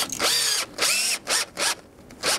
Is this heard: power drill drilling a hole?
yes